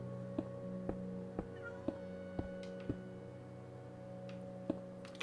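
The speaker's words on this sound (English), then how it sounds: "can hear my cat again" A house cat meows faintly in the background of a Minecraft Xbox play session, with quiet game music and regular soft ticking clicks running throughout.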